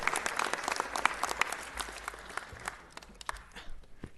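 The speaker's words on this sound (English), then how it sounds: "Let's give Vera Ford another round of applause." An audience at a city council meeting applauds Vera Ford, a warm, steady round of clapping that holds for several seconds, then thins out toward the end.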